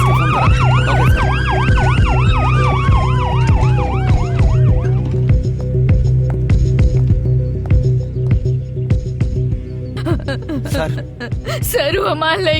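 An ambulance siren wails in rising and falling sweeps during a film scene, loud for about five seconds and then fading under music and scene noise.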